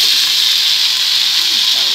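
Mixed cabbage and carrots hit a hot pan and set off a loud, steady hiss of sizzling that holds evenly with no break.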